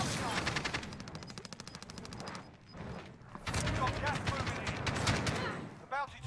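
Rapid automatic gunfire in a Call of Duty Warzone match, dense bursts of shots with short pauses and a louder burst midway, fired close by while players talk over the shooting.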